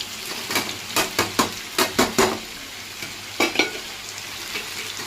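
Paneer and lightly fried cashews cooking in a pan with green chillies, scraped and stirred in a quick series of strokes over a soft sizzle, then a pause and two more strokes; no speech.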